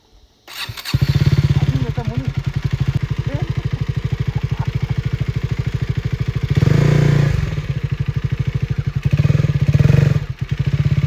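A motorcycle engine starts and idles with a rapid, steady putter, revving louder twice; close by, with voices talking over it.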